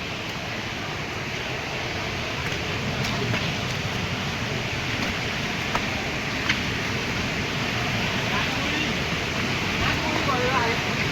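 Savatkada waterfall in Rajapur taluka pouring steadily, a broad continuous rush of water that holds level throughout, with faint occasional knocks over the roar.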